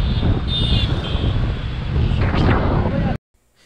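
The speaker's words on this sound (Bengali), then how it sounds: "ঠান্ডা ঠান্ডা হাওয়া বইছে," Cold wind blowing hard across the microphone on a road trip toward Diamond Harbour, a loud steady rush for about three seconds that cuts off abruptly into near silence.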